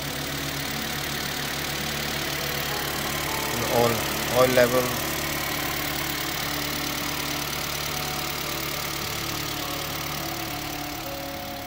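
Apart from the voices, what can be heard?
Toyota Voxy 2.0 engine idling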